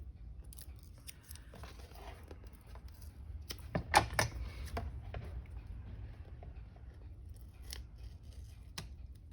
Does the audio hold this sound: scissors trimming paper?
yes